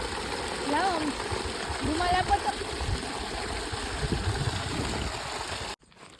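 Steady rushing water flows continuously through an irrigation channel with a noisy, splashing texture, cold water, and a few faint voices are audible beneath it before it cuts off.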